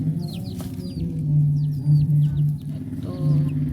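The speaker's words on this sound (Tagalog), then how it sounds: "Dalawang sisiw." Chicks cheep in short, high, repeated peeps over a low background hum in a backyard setting, close and fairly clear.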